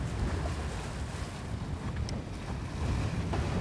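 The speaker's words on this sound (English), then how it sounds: "We've been blessed with 15 to 18 knots of wind" Wind of 15 to 18 knots roars steadily across a sailboat at sea, with a continuous rushing gust noise and water wash underneath.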